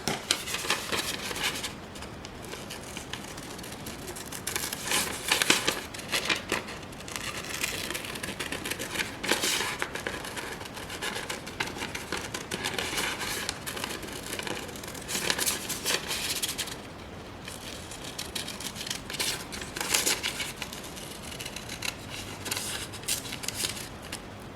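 Scissors cutting a lingerie pattern piece from paper or fabric, a continuous run of close, crisp snipping and rustling with brief pauses, faint and alone.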